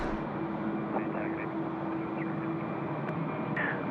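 A Qantas jet airliner taking off from Sydney Airport makes a distant, fairly faint, steady roar of engine noise that holds through the moment.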